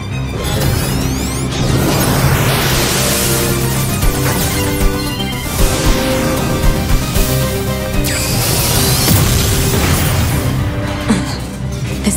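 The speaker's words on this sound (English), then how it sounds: "We've got mortars lining the shoreline here." Heavy booming crashes of close-range mortar fire along a shoreline in the video game Nier: Automata, repeated loud blasts layered over dense game music and effects.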